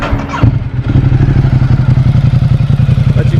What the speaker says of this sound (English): give you guys a final sound of the exhaust